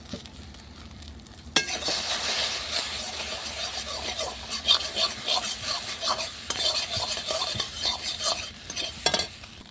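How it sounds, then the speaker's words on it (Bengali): Egg scrambling in a little hot oil in a pan over a clay stove, with steady sizzle and repeated scraping, stirring strokes from a utensil against the pan, close and fairly loud, starting abruptly after a quiet opening. "কড়াটা গরম হয়ে গেছে ডিমের ভুজিয়াটা করবো তাই অল্প পরিমাণ আগে তেল দিয়ে দেবো ডিমটা দিয়ে দিলাম"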